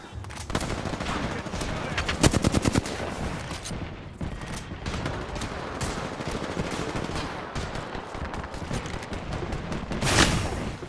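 Gunfire in the shooter game Apex Legends crackles almost constantly, with rapid automatic bursts and sharper single shots layered over dense battle noise, loud and busy throughout.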